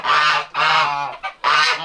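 A Sebastopol goose honks loudly and close by, giving three long, nasal calls with a brief short squawk between the second and third.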